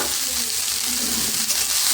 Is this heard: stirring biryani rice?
yes